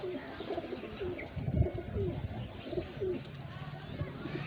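Domestic pigeons kept by a fancier coo in low, repeated murmurs, close by, with a general flock rumble and some background voices.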